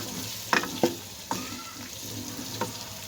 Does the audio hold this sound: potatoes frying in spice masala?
yes